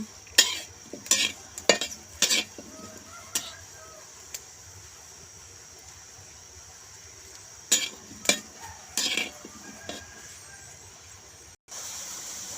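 Chilies, shallots and garlic dry-roasted in a pan, heard as intermittent scraping and clinking strokes of a utensil against the metal in bursts, with quieter stretches between them and a faint sizzle underneath.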